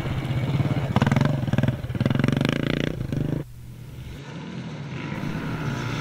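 A CCM motocross bike on a classic race's final lap roars loudly close by, its engine rising and falling with throttle, then cuts away to a quieter, more distant engine drone.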